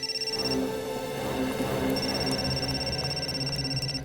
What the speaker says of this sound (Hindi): निखिल सर, सिद्धार्थ का फोन।